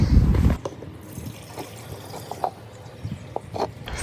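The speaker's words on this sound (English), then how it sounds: "to see how much the pump is pumping in 30 seconds" A fuel pump on a Land Rover Series 3 V8 pumping fuel into a can, a brief loud gush followed by a thin trickling and dribbling of liquid with small splashes, nearby.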